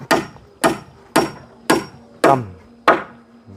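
A hammer drives nails into wood while a house is being built, six sharp, loud strikes landing close by at a steady pace of about one every half second, each blow ringing briefly before the next.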